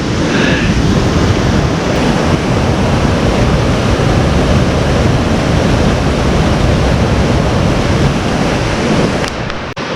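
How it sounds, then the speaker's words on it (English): Rushing water of Lone Pine Creek North Fork, a mountain stream crossing on the Mt Whitney trail, roars as a loud, continuous broadband wash without letup, close by. "we successfully navigated the Lone Pine Creek North Fork stream crossing"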